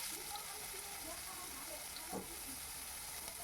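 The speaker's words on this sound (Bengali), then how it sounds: "পেঁয়াজটাকে আমি লাল লাল করে ভেজে নেব।" Two chopped onions fry in oil over a black cumin tempering, meant to brown until reddish, giving off a faint, steady sizzling hiss throughout.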